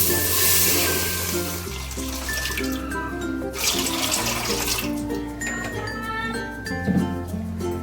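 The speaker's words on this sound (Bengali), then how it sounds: "এবারে আমি দিয়ে দেবো একটু জল" Tap water runs and splashes into a metal pot to boil taro leaves, a continuous close gush with faint clinks of the vessel, no talking.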